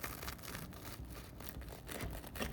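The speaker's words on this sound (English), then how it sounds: "That is the sound of perfectly toasted bread" Toasted bread of a grilled peanut butter and jelly sandwich crunches as a knife cuts through it, a steady close-up crackling and scraping that runs without a break and with no talk.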